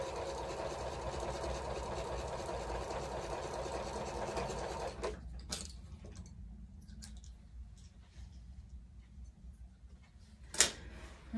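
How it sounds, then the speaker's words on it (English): A heavily used home sewing machine stitching steadily with a fast, even mechanical whir and clatter, then stopping abruptly, leaving quiet room sound with a couple of soft clicks and a brief sharp knock near the end. "My sewing machine is probably about due for maintenance again, as much as I use it."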